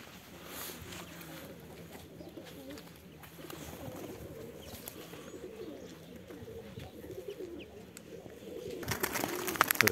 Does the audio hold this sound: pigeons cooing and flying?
yes